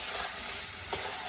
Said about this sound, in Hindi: यहाँ बन रहा है आलू फ्राई, यहाँ पे है साग आलू फ्राई